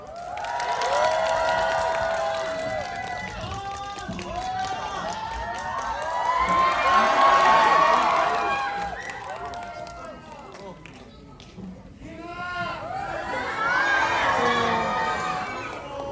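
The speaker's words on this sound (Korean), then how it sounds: "큰 박수와 환호 부탁드리도록 하겠습니다" A large crowd at a Korean film stage greeting cheers, screams and applauds as the actors and director walk in, loud swelling shrieks and clapping rising in waves, dipping briefly, then surging again.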